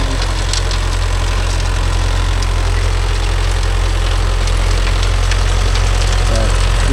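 A Mahindra tractor's diesel engine runs steadily while reversing, a loud, constant low rumble with an even idle-like drone and no breaks.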